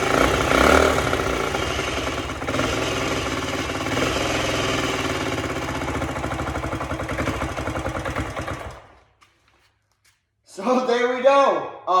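A rebuilt Honda CT90 engine runs close and loud with a busy, knocking small-engine clatter for about nine seconds, then cuts out into silence before a person starts talking.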